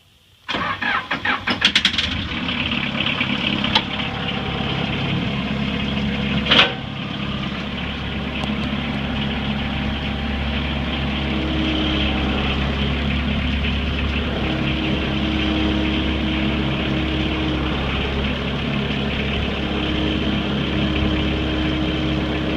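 Diesel engine of a Bobcat 751 skid steer loader, with glow plugs pre-warmed, cranking briefly and catching, then settling into a loud, steady idle that runs close by for the rest of the clip.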